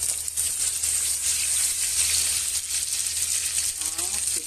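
Garlic sizzling in hot cooking oil in a pan, a steady bright hiss with faint crackles, close and even for several seconds, with no talking over it.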